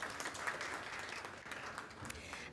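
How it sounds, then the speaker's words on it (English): A crowd applauding steadily, many hands clapping together at a moderate level for the whole stretch. "let's give both of them a round of applause"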